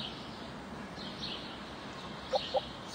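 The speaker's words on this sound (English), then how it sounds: "This is a chicken." Chicken clucking in the Mondly VR language-learning app, two short, sharp clucks near the end over a quiet, hissy ambient background.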